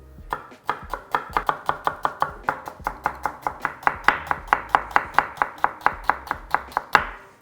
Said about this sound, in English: And you just wanna finely mince this up the same size as the rice